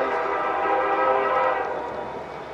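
A passing train sounds its horn, a loud sustained blast with harmonic tones that holds for about two seconds and then fades slightly, with no one talking.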